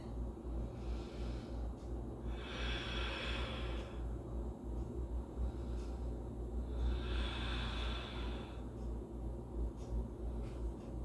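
Slow, deep breaths are drawn in and out twice in a quiet indoor room during a home yoga forward stretch, each breath soft and airy against a low steady hum.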